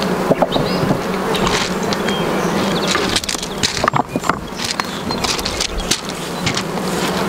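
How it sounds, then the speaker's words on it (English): Honeybees roar in a loud, dense buzz as they are shaken off a hive frame into a new hive, with sharp knocks and scraping bursts cutting through the constant swarm drone. "take a frame and you will shake them and swipe them into the new hive."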